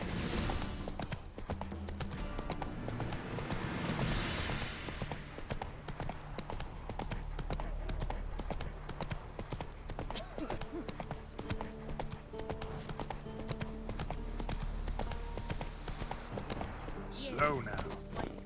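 Horse galloping in The Witcher 3 video game, a fast rhythmic hoof clip-clop running throughout under music and game sounds, with speech-like voices mixed in.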